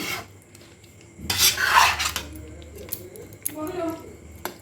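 Chicken with ghee is stirred in a cooking pot, with close scraping and clinking of a utensil against the pot in a few bursts, one louder sweep in the middle, and a voice speaking at times.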